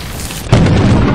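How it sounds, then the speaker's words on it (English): Thunder in the video game Lethal Company: a single sudden loud boom that rolls on as a heavy rumble, with no talk over it. "Thunder! Lightning!"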